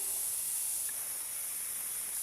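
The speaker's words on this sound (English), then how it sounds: "Okay, so the water is boiling already." Water bubbling and hissing steadily in a pot before macaroni is added, a constant bright steamy noise with no pauses.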